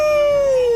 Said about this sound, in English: I ran out of the forge and let out a loud howl.